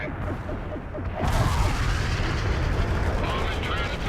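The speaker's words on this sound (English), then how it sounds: "Artillery firing." Artillery barrage in the real-time strategy game World in Conflict: a dense, sustained rumble of distant cannon fire swells after a moment and holds loud under the battlefield din, with no clear separate shots.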